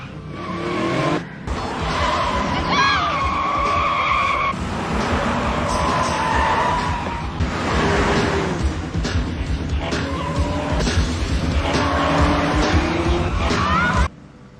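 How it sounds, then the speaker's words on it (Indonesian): A black car races at full speed in a movie car chase, with loud continuous engine roar, repeated tire squeals and skidding, and brief voices under the action. "Datang mobil hitam dengan kecepatan penuh. Disitulah terjadi kejar-kejaran."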